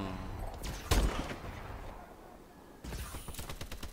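Sniper rifle gunfire in Call of Duty: Advanced Warfare on PS4, with one sharp, loud shot followed by a fading tail, then a quieter stretch and a burst of rapid distant in-game gunfire.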